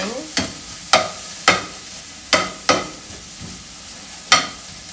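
Food frying in a pan is stirred in six distinct, evenly spaced scraping strokes, each followed by a fading sizzle, heard up close with no talking.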